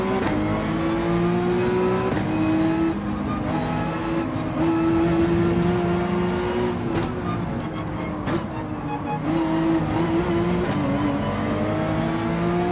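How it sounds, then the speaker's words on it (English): Porsche 911 race car in Gran Turismo 7 pulling away from a standstill in first gear, a steady loud engine drone with slowly rising pitch, continuous and close throughout. "the 911 acceleration in first gear from the standstill on this race car is slow"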